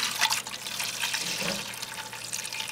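Hot wort gushes and splashes steadily from a ball valve while draining during all-grain beer brewing, a hissing pour of running fluid with a brief gurgle midway.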